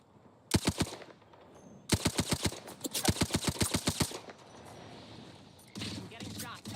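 Rapid automatic gunfire bursts in the video game Apex Legends, several loud rattling volleys separated by short pauses, close and sharp.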